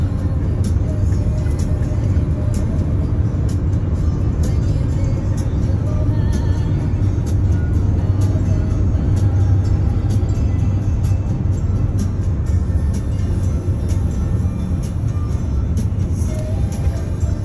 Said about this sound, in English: Like we caught some traffic.